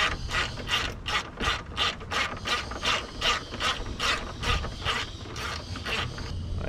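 A hand ratchet backs a bolt out of the hood bracket on a Mitsubishi Lancer EVO X: steady, close, rhythmic bursts of clicking, about a dozen strokes in quick succession with no talking.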